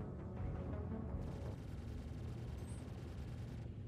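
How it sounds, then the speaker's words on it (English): Missiles striking a ship in the space game Star Citizen: a dense, continuous rumble of impacts and blasts, loud and heavy throughout with no clear gaps, and no talk. "Those missiles hurt."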